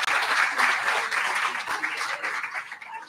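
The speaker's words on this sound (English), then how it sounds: "We will applaud him in absentia." Broad, sustained applause from an audience at a book prize presentation, steady and dense throughout with no voices over it.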